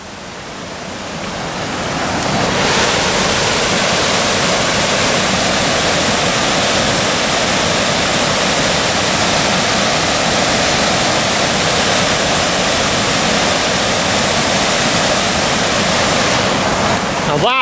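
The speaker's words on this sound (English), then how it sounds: "just have a look at the waterfall" A roaring waterfall near a bridge along a roadside, swelling in over the first couple of seconds into a loud, steady, broadband rush of falling water that drowns out everything else.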